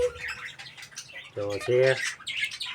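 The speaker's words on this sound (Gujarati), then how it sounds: "આ છે આપણો કાબરો, એટલે કે પિંસ." A myna, known locally as kabro, calls from its cage in a small mini zoo with a couple of short, harsh, buzzy squawks, close by, while someone speaks briefly around them.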